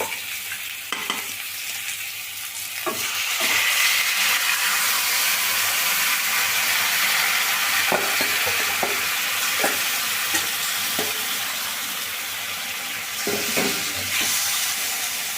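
Marinated mutton hits hot oil in a pan and sizzles loudly and steadily, with a broad frying hiss and occasional scraping stirs throughout, nearby with no talk.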